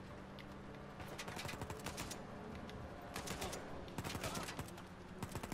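Dense rapid gunfire in the video game Uncharted 4, bursts of automatic shots crackling over a busy background, loud and continuous with brief lulls.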